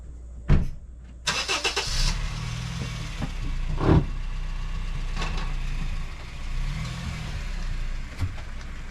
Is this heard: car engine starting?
yes